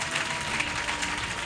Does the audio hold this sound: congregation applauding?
yes